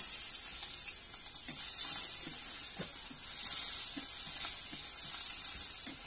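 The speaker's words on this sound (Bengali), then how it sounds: "এবারে দিয়ে দেবো পেঁয়াজ কুচি" Chopped onion sizzles in hot oil with a continuous, bright frying hiss and scattered faint pops and spoon clicks. The sound is steady and close throughout.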